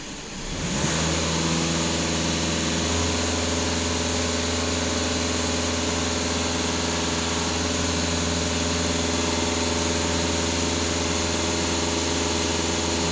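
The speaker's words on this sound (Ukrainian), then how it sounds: "Даю газ в пол." A VW Passat 2.0 TDI diesel engine is floored and climbs quickly to a high, steady roar, holding a loud, even drone with a humming vibration for over ten seconds, close up and with no talk.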